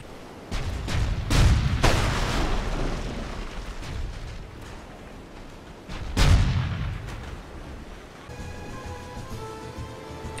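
Ship cannons fire in the naval combat game Wind of Luck Arena, heavy booming shots in two clusters, loud and close with rumbling decay, followed by quieter in-game ambience.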